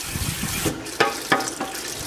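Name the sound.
rinsing cooked pasta with cold tap water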